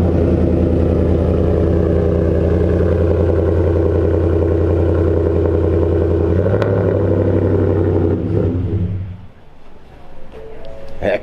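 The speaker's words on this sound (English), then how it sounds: "you've got to have the all-American V8 sound, and that's what we went for. And this 5-liter with this catback exhaust," A Ford 5-liter V8 in an F-150 with a Roush catback exhaust idles with a loud, deep rumble for several seconds before shutting off, leaving quieter background sound.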